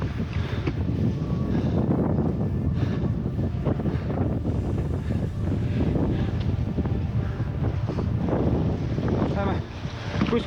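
Gusty wind buffets the microphone outdoors near a lake, a rumbling, fluttering roar that surges and eases across the whole stretch and drops briefly near the end.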